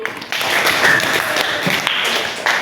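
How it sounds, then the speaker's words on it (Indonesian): Classroom clapping for a pupil named Fitri, a short burst of several students' hands slapping together, near and somewhat uneven, with faint voices mixed in. "Tepuk tangan untuk Fitri"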